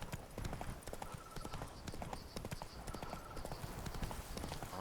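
Roach, the horse in The Witcher 3, gallops with rapid, continuous hoofbeats that keep up a steady rhythm, fairly faint, with some game background sound and a brief voice.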